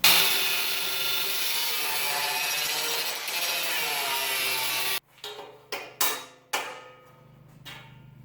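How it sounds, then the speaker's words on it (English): Cut-off wheel slicing through a metal trailer fender: a steady loud grinding whine for about five seconds, then it stops and several short bursts of cutting or rubbing follow in quick succession. "I just snip her off with a cut-off wheel here"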